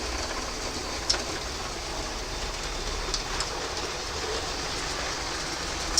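A model train runs steadily along track laid on laminate underlay, giving a constant rushing rattle with a couple of faint clicks, close by and without voices.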